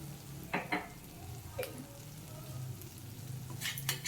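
Kashmiri chilli powder masala sautéing in hot oil for a brinjal dish, a faint steady sizzle with a few brief scraping stirs of a spoon in the pan.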